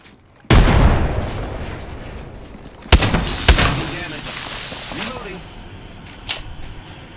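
A frag grenade blast in a video game lands as a sudden loud boom with a long rumbling tail, and a second sharp burst follows a few seconds later. Fainter pops and quieter rumbles come after.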